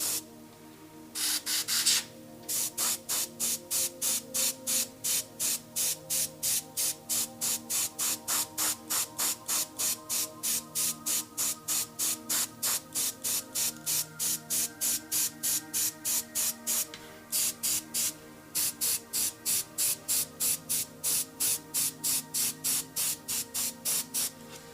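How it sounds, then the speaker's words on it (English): An airbrush sprays paint onto a painted miniature chef figure in rapid, rhythmic short bursts of hissing air, close and steady, with a couple of brief pauses and a longer continuous spray at the start. "airbrush shot."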